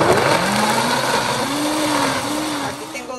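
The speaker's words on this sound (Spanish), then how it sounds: "Aquí en la licuadora ponemos pimienta, comino y clavos." A kitchen blender grinds tomatillos with pepper, cumin and cloves, a steady loud whirring motor drone held throughout with a slight pitch shift as the blades churn.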